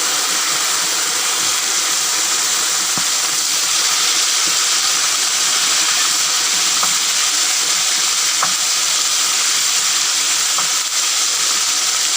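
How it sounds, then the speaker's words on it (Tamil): Marinated meat fries in hot oil for a Sri Lankan Muslim wedding-style meat sambal, giving a loud, steady, dense sizzle and hiss throughout with faint scattered pops and stirring, no voices. "ஆயில் ஹீட் ஆகினதும் இதை வந்து ஃப்ரை பண்ணிக்கொள்ள வேணும்"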